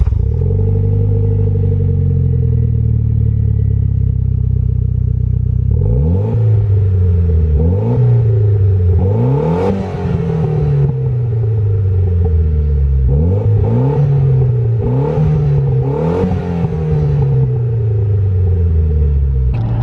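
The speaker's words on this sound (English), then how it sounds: "this car just has an axle back, so it's like a little bit louder than stock" A Mitsubishi Lancer Evolution X MR engine with an axle-back exhaust idles with a throaty, slightly louder-than-stock note, then gets revved repeatedly in short bursts, the pitch climbing and falling with each rev.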